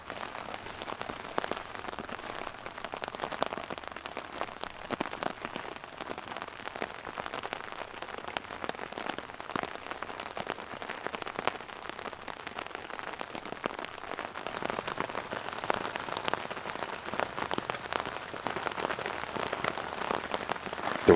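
Heavy rain drums steadily on the roof of a stealth camper parked in a suburb, a dense, continuous patter of drops close overhead with no voices and no letup.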